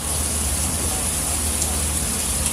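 Heavy rain in Dubai: a dense, constant broadband hiss of downpour, loud and close, steady throughout with no pauses.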